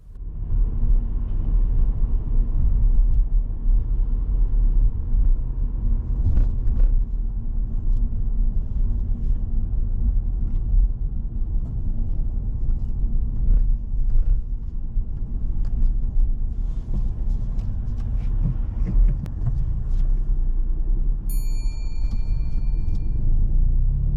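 A car heading down a hill on a road hums with a steady low engine and tyre rumble heard from inside the cabin, continuous and fairly loud, with a few faint clicks and a brief chime near the end.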